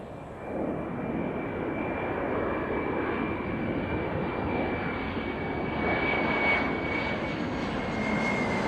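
The Boeing Dash 80 prototype jet airplane's engines roar in a steady, loud, continuous rush with a faint high whine, building slightly toward the end, with no talking.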